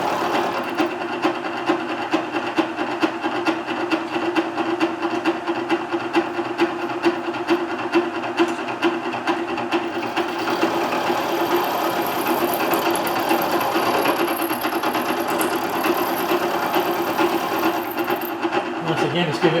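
Machine tool cutting a steel locomotive axlebox horn, a continuous rapid mechanical chatter and grinding hum held steady throughout, with a thin high whine entering partway through, close and loud.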